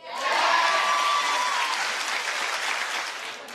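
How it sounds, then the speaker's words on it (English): Studio audience bursts into applause, a dense wash of clapping that swells fast and holds steady for a few seconds, with a faint voice briefly over it at the start. "Clap if you say yes."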